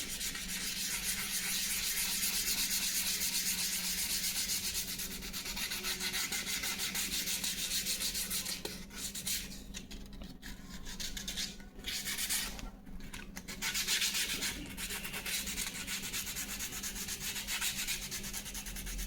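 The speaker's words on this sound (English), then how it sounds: "While sanding, if you getting the powder residue, that means your dope coat is dried very well" Steady scratchy rubbing of sandpaper on a doped balsa model aircraft surface, continuous and close, with a few brief pauses and changes in stroke.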